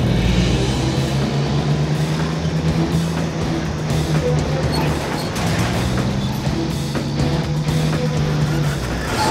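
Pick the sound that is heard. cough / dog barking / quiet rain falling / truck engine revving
truck engine revving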